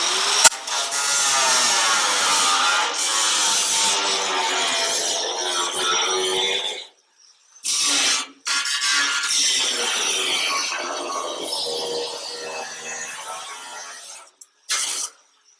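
Power saw cutting through a steel flange on a custom COE truck during a headlight swap, a loud sustained rasping cut that runs for about seven seconds, pauses, then resumes in two more bursts.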